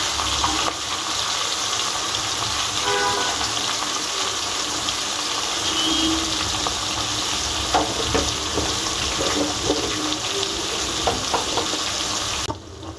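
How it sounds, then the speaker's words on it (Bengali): Hilsa fish scraps fry in a pan with a steady, loud sizzle and crackle that runs unbroken for over ten seconds, broken only by faint scraping as they are stirred, and no voices over it. "ইলিশ মাছের কাটাকুটি একটু ভেজে নেব।"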